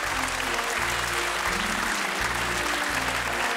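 Studio audience at a German TV Christmas special show applauding steadily, a dense, continuous wash of clapping that stays loud and even throughout with no talk over it.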